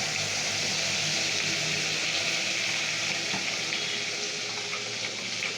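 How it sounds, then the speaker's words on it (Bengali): An onion, ginger, garlic and cashew paste hits hot oil in a wok, giving a steady, loud sizzle that carries on without a break. "কড়াই মা তেল দিয়ে দিয়েছে আর এবার এই পেস্টটা মা ঢেলে দিচ্ছে"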